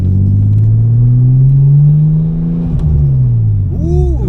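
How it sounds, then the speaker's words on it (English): A Nissan R34 GTT with an HKS Super Sequential setup revs hard with a loud engine drone, then its turbo blow-off valve gives a quick whooshing release as the engine note drops. "So what you're hearing there is the blow-off valve."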